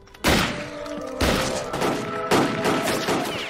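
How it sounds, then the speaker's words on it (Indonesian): Gunfire in a war film scene: three loud, sharp bursts about a second apart, each ringing out over a sustained tonal background. "Dia pun keluar tapi membawa senjata dan langsung menembak balik tentara itu."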